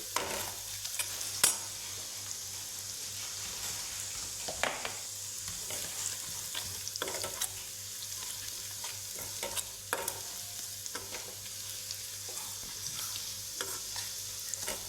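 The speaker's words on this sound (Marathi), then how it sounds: "चटणी, ह्याला पण थोडंसं भाजून घ्यायचं तेलामध्ये." Red chilli powder masala roasting in oil for a mushroom masala curry, a quiet steady sizzle broken by intermittent scraping stirs and a few sharper clicks of a spatula on the pan.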